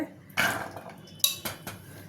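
Pots and dishes clatter and clank in a few short bursts, close by, with metal scraping between the knocks.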